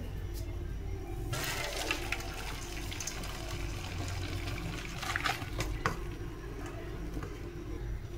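Water from boiled noodles pours and splashes steadily through a strainer, a close rushing gush with trickling and a few light clinks of metal.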